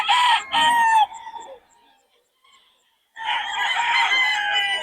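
Chickens cluck and a rooster crows loudly nearby in two bursts separated by a short quiet gap.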